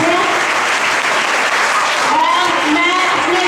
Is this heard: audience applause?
yes